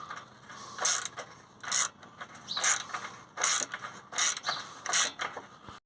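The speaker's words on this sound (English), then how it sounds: "we're using a 4 hex, size 4 hex there, on a 1/4 inch ratchet" A 1/4 inch ratchet with a size 4 hex bit clicks in six rapid bursts while loosening the AdBlue injector clamp on a Range Rover Evoque 2.0, close and crisp with short pauses between strokes and no talking.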